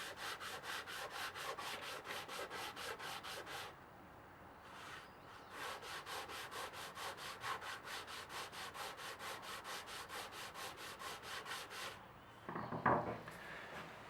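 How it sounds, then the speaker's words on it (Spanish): Sandpaper rubbed back and forth over a handmade wooden box, a steady rhythm of dry scraping strokes in two long runs separated by a short pause, close and fairly loud, with a brief knock near the end. "pasarle una lija bastante gruesa, luego una lija mediana y por último una lija fina"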